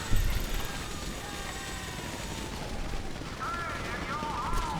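Bursts of gunfire in GTA 5 crackle through a dense, noisy mix of game sound, with other effects layered underneath.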